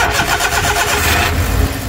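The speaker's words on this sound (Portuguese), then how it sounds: "Pedi para que o amigo desse partida para vocês escutar aqui junto comigo o ruído do motor." A car engine cranks and catches, then settles into a steady mid-pitched running rumble, close and loud, with no voices.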